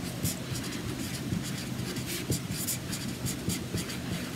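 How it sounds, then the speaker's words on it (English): A pen writes on the back of a Chalk Couture transfer sheet, giving a steady soft scratching with small rhythmic strokes over a constant low background hum. "I'm going to flip over my transfer and I'm going to write on the back of it"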